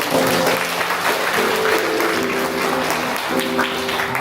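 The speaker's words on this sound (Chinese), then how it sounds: "所以大家给这一对家庭掌声" A church congregation applauds a family during a Sunday joint worship service at Linkou Presbyterian Church; steady, dense clapping from a large crowd filling the room for about four seconds.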